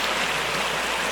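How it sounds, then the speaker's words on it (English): Continuous rushing of a stream where it meets and flows into a brook, loud and close, a steady broadband wash of moving water with no voices. "this is the corner of Cornforth Stream in Industry, and it flows into Mitchell Brook"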